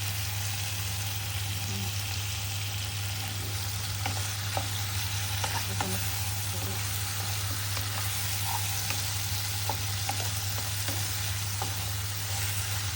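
Dried rupchanda fish frying in spice masala, a steady close sizzle with scattered small pops and occasional stirring scrapes, under a constant low hum, with no voices.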